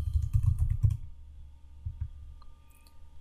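A keyboard is typed on in a quick close burst of clicks that stops after about a second, followed by a couple of faint taps in near silence.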